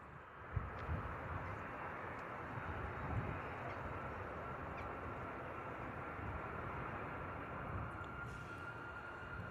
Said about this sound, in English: just as we've got our next departure coming at us, which is our TUI Boeing 737